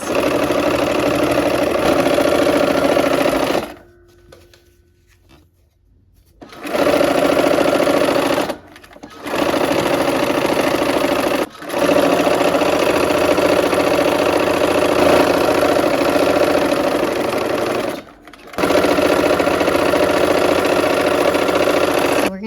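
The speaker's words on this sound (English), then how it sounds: "let's sew this to the green, the schoolhouse to the green too" A sewing machine stitching quilt pieces runs in long, steady, loud whirring bursts with brief pauses between seams, close by and with no talk over it.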